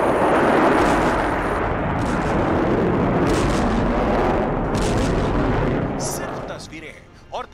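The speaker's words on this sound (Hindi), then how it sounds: "धमाके भी ऐसे कि जहां बम फटा वहां हर टारगेट जर्रे जर्रे में तब्दील हो गया।" Deep, rumbling booms roll continuously like heavy blasts, a loud thundering wash that fades out near the end with a final thud.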